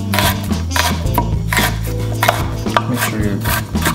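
Fresh rhubarb stalks are minced with a knife on a cutting board, making rapid, steady chopping taps close up, with continuous rhythmic strikes throughout.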